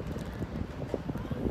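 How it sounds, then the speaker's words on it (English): Wind gusting outdoors beside a hospital on a sunny day, a low rumbling buffet of air hitting the microphone, steady and moderately loud throughout a brief stretch. "It's windy, but the sun's here"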